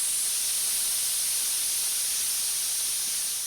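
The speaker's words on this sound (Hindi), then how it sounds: "कुकर की सीटी सुरीली लगती है क्योंकि उसमें पकता है खाना" A pressure cooker vents steam in a continuous, sharp, high hiss that holds steady at one level for the whole stretch.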